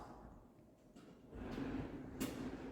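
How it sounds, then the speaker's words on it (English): A pocket door in the mudroom of a newly built house slides along its track, a faint, low rolling rumble rising midway and ending with a soft knock. "So this is the only pocket door in the house."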